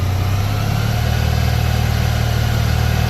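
A 1990 Honda ST1100 motorcycle engine holding a steady 2,000 RPM, heard up close as a continuous, even low hum with a constant mechanical drone and no change in pitch or level.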